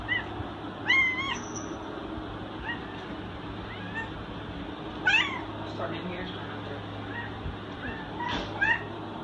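A shelter cat meows repeatedly, several distinct calls spread across the clip at moderate distance over a quiet room background.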